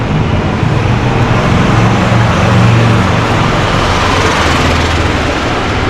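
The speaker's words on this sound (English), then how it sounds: "Those are Yamaha golf cars. They're gas cars." Gas-powered Yamaha golf cars driving beneath an overpass, a loud, steady engine drone with road rumble that holds constant throughout, no voices.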